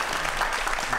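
Audience applause at a science lecture event thanking two speakers, a dense, steady wash of many hands clapping throughout the short stretch.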